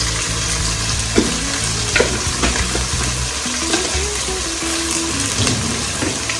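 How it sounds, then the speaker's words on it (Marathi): Turmeric goes into a pan for chicken dum biryani, and the pan keeps up a loud, steady sizzle and frying hiss with a few scraping stirs, no voices. "आता मी टाकते थोडीशी हळद"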